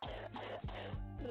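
A few harsh, throaty coughs in quick succession, close and fairly loud.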